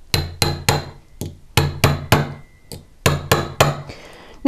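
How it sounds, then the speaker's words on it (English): Brass mallet lightly tapping a curved dapping punch into a metal blank, about a dozen crisp ringing metallic taps in uneven quick groups, close and clear. "give it just some light taps with my brass mallet"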